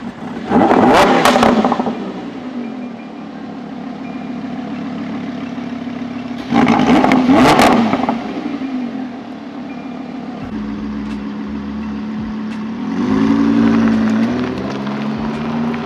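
Lamborghini engine revving in loud bursts, with two sharp high-revving surges early on, a steady idle rumble between them and a rising rev near the end, close by with no talk.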